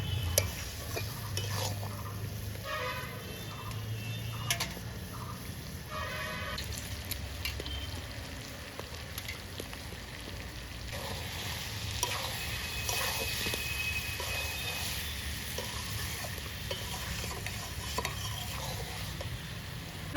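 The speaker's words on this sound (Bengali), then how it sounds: "কাঁঠালটা আর একটু ভালো করে কষানো হবে" Jackfruit curry being stirred and sautéed in a pan with a splash of water, for a prawn and jackfruit dish; soft steady scraping and faint sizzle continue throughout at low volume, with occasional utensil clinks.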